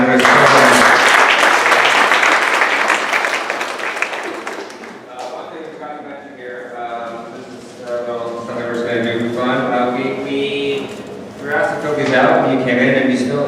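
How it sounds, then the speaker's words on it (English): Loud, dense applause from a live audience at a sermon slam event fills the first few seconds, then fades as a voice begins talking over lingering scattered claps, with a brief renewed burst of clapping near the end. "another round of applause for that."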